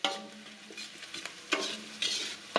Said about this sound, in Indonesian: masukkan lombok, masukkan jadi satu, aduk-aduk.